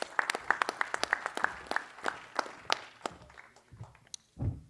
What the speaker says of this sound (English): Round of applause for Joe and all the fighters that we introduced.